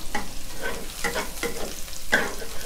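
Pounded chilies fry and sizzle in hot pork lard in a wok for Thai basil squid, a steady crackle broken by a few scraping stirs, close and loud with no voices.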